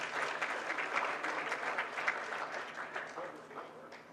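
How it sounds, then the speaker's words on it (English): An audience claps in dense, continuous applause, moderately distant and fairly quiet, with a steady patter throughout. "I'll give him more round of applause."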